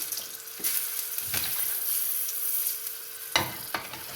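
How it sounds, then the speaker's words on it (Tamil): Mustard seeds, a dried red chili, a green chili and asafoetida crackle and sizzle in hot oil, a steady bright frying hiss with a few sharper pops, close and alone without talk. "இப்போ கடுகு ஒரு காஞ்ச மிளகாய் ஒரு பச்சை மிளகாய் கொஞ்சம் பெருங்காயம்"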